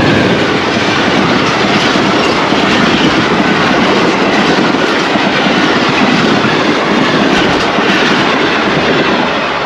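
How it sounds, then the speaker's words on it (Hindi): The Jaffar Express passenger train, hauled by locomotive PHA 28314, passes through the abandoned Koh-i-Noor railway station with a loud, steady, broadband roar of wheels and carriages that runs unbroken throughout. "कोहिनूर रेलवे स्टेशन पहुंचने के बाद जो पहला ट्रेन एक्शन देखने को मिल रहा है वो 40 डाउन जाफर एक्सप्रेस का है"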